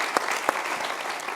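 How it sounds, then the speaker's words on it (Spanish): Brief burst of audience applause at a hospitality-industry panel event, dense clapping with a couple of sharper, closer claps standing out. "Os pido un aplauso para él."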